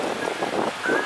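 Strong wind at an overcast beach in El Nido roars steadily and loudly, with gusty surges buffeting the microphone and no voices.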